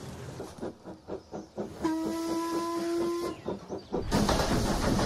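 A restored steam locomotive working, with rhythmic chuffing exhaust beats throughout and a steady steam whistle sounding for over a second in the middle, followed by a burst of loud hissing steam.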